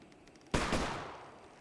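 A single loud gunshot in a Bigfoot hunting video game, a sharp crack that rings out and decays over about a second against quiet background.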